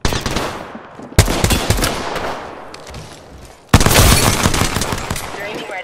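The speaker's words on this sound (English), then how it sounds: "Getting shot at" Apex Legends gunfire, loud bursts of automatic weapon fire cutting in abruptly, a long rattling stream then a fresh heavy barrage, close and dominating the scene.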